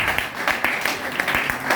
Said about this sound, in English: Let us clap for upline as it comes to the front.